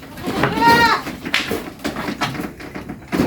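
Goats bleating while feeding on a farm, one drawn-out close bleat followed by rustling and chewing sounds, with a person talking nearby.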